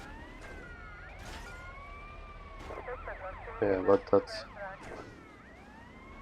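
A police siren in the video game GTA: Vice City wails with rising and falling tones through most of the clip, moderately loud, with a brief burst of crashing noise and a few spoken words over it.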